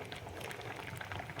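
Rasam lentil water boils in a pot on the stove, a continuous soft bubbling and popping that stays even and fairly faint throughout.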